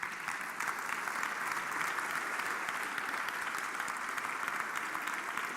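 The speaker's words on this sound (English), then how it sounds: "Please give a big round of applause to the panel." Conference audience applauding a panel at the close of a session, dense sustained clapping from a full room, steady and fairly loud throughout with no voices over it.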